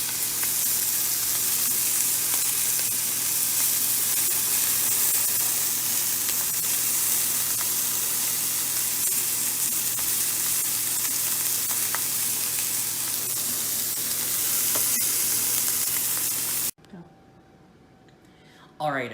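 Thick pork chops searing in a hot pan give off a loud, steady sizzle and crackle that runs unbroken for most of the stretch, then drops off abruptly near the end.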